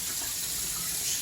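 Kitchen tap water running steadily into a sink while pork belly is rinsed of brine, a constant close hiss and splash with no talk.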